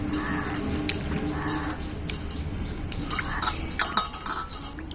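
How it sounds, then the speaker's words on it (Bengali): Cut mango pieces are swished and rinsed by hand in a bowl of water, with close splashing, sloshing and light clinks of the pieces and vessel, steady and moderately loud. "এই জলের মধ্যে এবার আমি আমটাকে দিয়ে দেব। খুব ভালো করে ধুয়ে নেব।"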